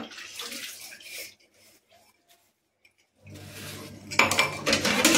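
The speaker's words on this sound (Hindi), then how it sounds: "मैं बर्तन धो रही हूं" Dishes, pots and utensils are washed by hand in running water at home. A steady splash of water and clattering vessels fades to near silence for about a second, then comes back louder with close scrubbing and knocking.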